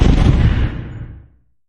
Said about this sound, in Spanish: Los explosivos restantes explotaron uno por uno, enviando llamas hacia el cielo.